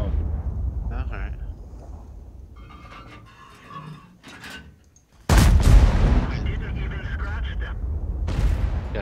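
Artillery fire in a tank video game: a single heavy boom bursts in abruptly after quieter game noise, followed by sustained rumbling blasts, while players talk over the action.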